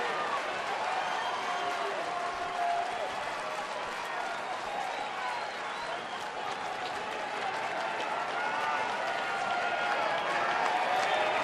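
A baseball stadium crowd at a New York Mets at Detroit game cheers and applauds, a steady, dense roar of clapping and voices that holds at full strength throughout.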